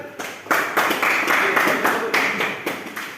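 Applause breaks out in a classroom at an automotive engineering teaching session, a steady wash of hand claps with rises and dips over a few seconds, close and moderately loud.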